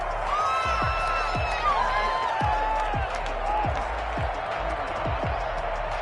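Home stadium crowd at a football game: a steady, dense roar of noise and cheering that holds at full level throughout, with faint shouts and whistles running through it.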